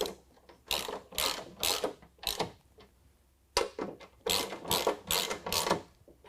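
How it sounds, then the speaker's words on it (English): Ratchet fitted with a 13 mm socket tightening bolts that hold a stainless nerf bar board to its bracket on a 2019 Ram 1500, quick bursts of close clicking in several separate runs with short pauses between. "I'm going to use a 13 millimeter and tighten our 2 bolts to tighten our board to our bracket."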